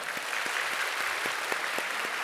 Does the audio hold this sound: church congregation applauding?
yes